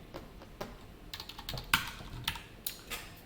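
Close, quiet clatter of a computer keyboard as JavaScript code is typed, irregular keystrokes with a few sharper key hits and brief pauses.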